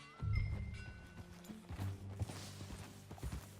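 Horse hooves clip-clop in Red Dead Redemption 2, with a few heavy, close steps in uneven rhythm and a faint snort or creak between them.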